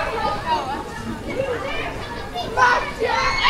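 Many children play and shout outdoors near a Primark store on a Dutch shopping street, their lively overlapping voices steady and close throughout, with an adult speaking over the noise.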